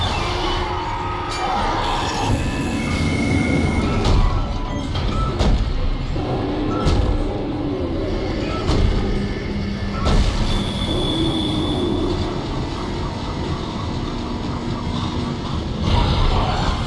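A tram arrives in the Dead Space sci-fi horror game, a steady rumbling rail rush with metallic wheel squeals and clanks continuing loudly throughout, no one talking.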